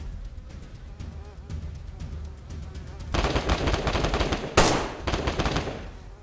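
Gunfire in the survival video game DayZ during a fight around an airport control tower: a crackle of rapid shots grows louder partway through, with one sharp, loud blast standing out before the firing continues.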